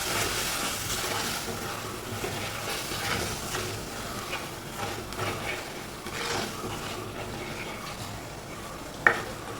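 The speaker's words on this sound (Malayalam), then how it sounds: "ഇതെല്ലാം കൂടെ നല്ലതുപോലെ ഒന്ന് മിക്സ് ചെയ്യാം." Curry masala is stirred in a hot pan with salt and ground fenugreek, scraping strokes over a constant close sizzle and hiss, with one sharp clink near the end.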